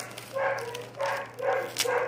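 Several dogs shut in a room bark and yip in short bursts, muffled and somewhat distant, with a steady low hum underneath.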